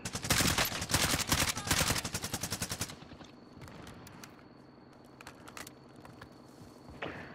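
Video game gunfire opens with a loud, rapid burst of shots over the first few seconds, then fades to sparse, quieter single cracks against a low background hum.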